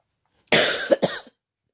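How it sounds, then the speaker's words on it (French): A single person coughs close up, a short rough burst of two or three hacks in quick succession, with silence on either side. "j'ai vraiment cru que j'allais m'éviter de tousser"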